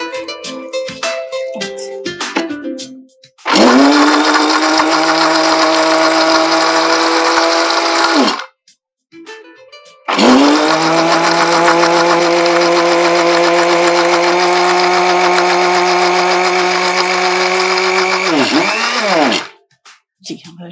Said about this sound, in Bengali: অল্প একটু পানি দিয়ে আমরা ব্লেন্ড করে নেব